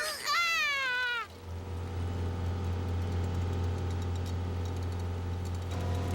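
A boat motor hums steadily as the boat leaves a marina, a low constant drone starting just after a high child-like voice and continuing alone at moderate level.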